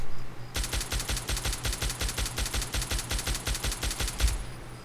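Rapid automatic gunfire in Fallout 3 empties a full magazine in one sustained burst of evenly spaced shots, loud and close, then stops abruptly.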